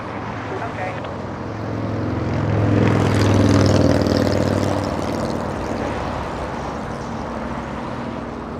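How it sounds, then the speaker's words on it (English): An Asiana Airlines Airbus A350-900 inbound from Seoul passes over an airport, its jet roar swelling to a peak midway and then slowly fading, with people talking nearby. "an A350 flying in from Seoul"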